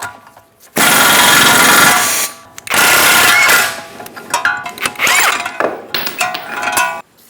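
Upper ball joint being pressed out of a Ford E-350 with a press tool and receiving cup, giving loud, close metallic grinding and straining bursts, a few sustained pushes followed by scattered cracks and clunks as the joint gives way.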